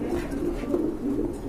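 A spangle racer pigeon coos close by, a soft low rolling coo repeated across the short moment with faint background hiss.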